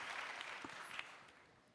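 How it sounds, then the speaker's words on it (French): Audience applause at a pharmaceutical conference event, a dense wash of clapping that is fairly faint and distant and slowly fades out over a couple of seconds. "On peut l'applaudir."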